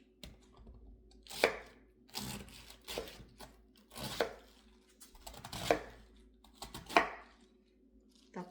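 A knife chops food on a wooden chopping board: about six separate, evenly spaced knocks with a dry scraping edge. The chops sound quiet and close, with no talking.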